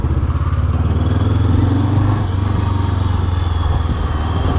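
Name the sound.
Morbidelli T502X 500cc motorcycle engine during test ride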